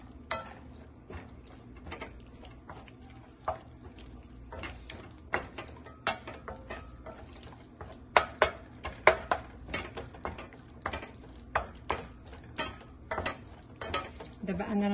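Ground beef kofta is mixed with water in an unheated pan, making irregular clinks and scrapes of a utensil against metal that grow busier and louder toward the end.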